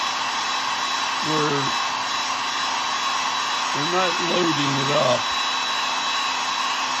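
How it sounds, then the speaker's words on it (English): A hair dryer blows steadily at close range, drying primer paint on a carved wooden lazuli bunting, a constant loud whirring drone while a person talks briefly over it. "the hair dryer will get you there faster than you think"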